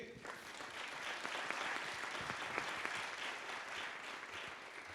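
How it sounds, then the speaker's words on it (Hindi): A church congregation at a fasting prayer service clapping loudly together, a continuous dense patter of many hands at moderate distance, steady throughout. "जोर से ताली बजाएंगे।"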